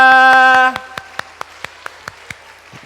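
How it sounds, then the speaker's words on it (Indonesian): A few clear, separate claps from children of grades 4 to 6 at a school Easter service, starting under a sustained sung or spoken tone and then continuing as a slow, sparse sequence of single claps. "kasih tepuk tangan juga"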